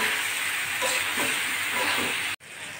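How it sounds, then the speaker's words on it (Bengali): Spices sautéing in a pan with potatoes and raw banana, a steady loud sizzle and hiss with faint stirring, cut by a brief gap near the end. "আমি মশলাটা ভালো করে আলু কাঁচা কলার সঙ্গে একটু কষিয়ে নেব"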